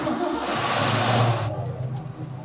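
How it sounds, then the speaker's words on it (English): An old pickup truck with a 1980s motor revs loudly and steadily up close on a farm, the roar easing off partway through. "We're in the old pickup checking the old motor."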